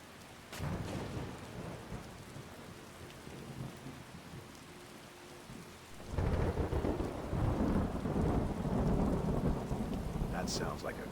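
Rain and rolling thunder from a stormy scene in the video game Skyrim, a steady wash of rainfall with a thunder rumble early on, then the downpour swells louder and denser about halfway through.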